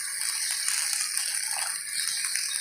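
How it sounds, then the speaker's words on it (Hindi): Half a cup of water poured into a pan of beef kofta curry with chillies, a steady close hissing splash that runs unbroken through the moment. "और आधा कप पानी डाल देंगे।"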